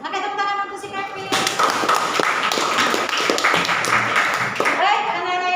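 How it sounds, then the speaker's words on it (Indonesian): Students in a junior high school classroom clap for a classmate named Kevin, a burst of close, scattered hand claps and thumps that starts after a spoken line and dies away after a few seconds, with voices over it. "tepuk tangan untuk si Kevin"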